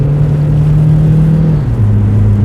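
A 2.0 diesel Ford Kuga with 165 horsepower pulls away under acceleration, a loud steady engine drone rising and then dropping pitch as it shifts gear, heard from inside the car.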